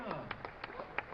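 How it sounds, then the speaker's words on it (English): Spectators at the 2025 NCAA Division I men's tennis championship clap in scattered sharp bursts, a sparse thin spattering of applause at a modest distance. "And you hear the claps and the roars."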